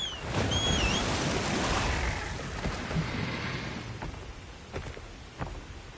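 A monster swimming and splashing through water in Monster Hunter Wilds, a broad rushing surge of sloshing water that is loud at first and fades, then a few sharp splashes and clicks toward the end.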